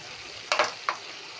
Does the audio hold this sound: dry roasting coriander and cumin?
yes